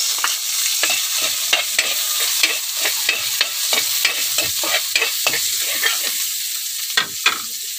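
Garlic and onion sizzle in hot oil in a pan while a utensil stirs them, loud steady frying hiss punctuated by repeated scraping and clinking strokes, no talking.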